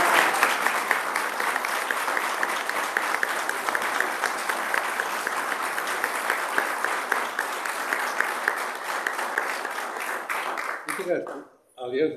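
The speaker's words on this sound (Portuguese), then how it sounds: "O que eu pedi era uma salva de palmas para o seu padre" Sustained applause from an audience in Braga honouring a priest at a book presentation about the founder of Opus Dei, a dense even roar of clapping lasting over ten seconds before cutting off abruptly.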